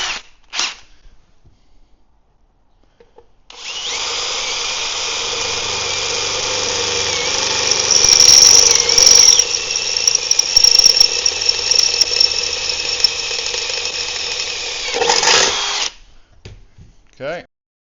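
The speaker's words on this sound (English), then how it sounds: "Okay, so let's drill this out." A power drill with a clean drill bit bores a hole while building a powder coating oven, starting with a few short taps, then a loud sustained whine for about twelve seconds that rises in strain midway before cutting off.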